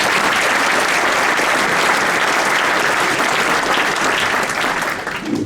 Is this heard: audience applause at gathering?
yes